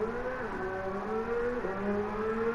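A Porsche 911 race car on soft sports tires in Gran Turismo 7 holds a high, steady engine whine whose pitch dips and climbs with throttle changes, loud and continuous over a few seconds.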